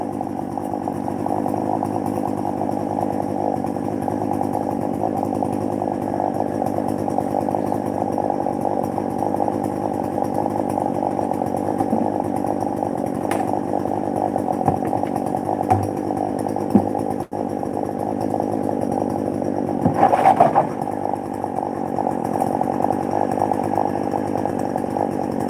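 Chainsaw with a bent bar running steadily for the whole stretch, a loud constant engine drone, close by at a bushcraft off-grid camp, with a few brief knocks and a short rustle near the end and no talking.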